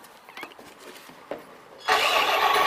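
A radio-controlled HEMTT 8x8 military model truck's motor starts up with a sudden burst of loud, steady whirring noise after a few faint clicks and taps.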